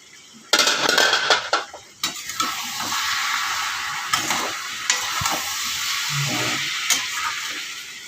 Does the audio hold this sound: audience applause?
no